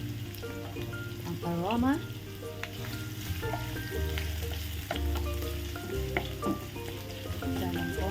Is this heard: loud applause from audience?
no